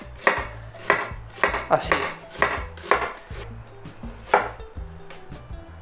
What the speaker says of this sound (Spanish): Vamos a partir la cebolla a juliana, finita